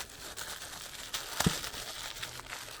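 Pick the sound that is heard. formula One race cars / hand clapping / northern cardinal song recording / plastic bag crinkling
plastic bag crinkling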